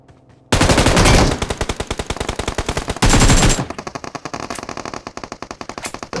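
Automatic weapon fire in PUBG Mobile gameplay: loud rapid bursts of machine-gun shots, a dense opening volley, a pause, then another burst followed by steadier repeated shots, with no talking.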